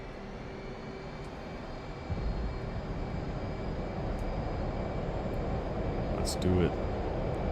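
In the DCS World game, an F/A-18C's jet engines roar steadily on a carrier deck before launch, swelling louder partway through as someone talks over the noise.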